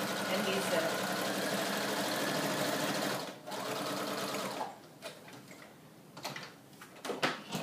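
A sewing machine stitches through scrapbook paper pages in a fast continuous whir, then halts, leaving scattered clicks and handling noises.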